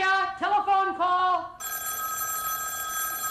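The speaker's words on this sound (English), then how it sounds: "Telephone ringing!" A telephone on a children's TV show rings with a bright, sustained metallic bell tone through the second half, right after a voice calls out in a lively sing-song.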